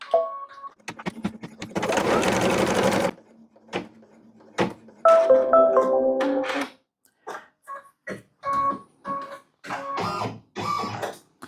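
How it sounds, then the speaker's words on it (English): An embroidery machine runs a placement stitch for in-the-hoop quilting, a dense mechanical whirr lasting about a second, set among clicks, thumps and handling noises of fabric and hoop. "We're going to start the placement stitch for this left side of it."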